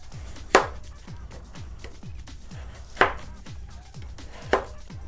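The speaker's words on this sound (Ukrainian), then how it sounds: "Так що картоплю зараз нарізаємо." Potatoes are cut with a knife on a board in a home kitchen, giving quick, regular close chops with a few louder sharper strikes in between and no voices.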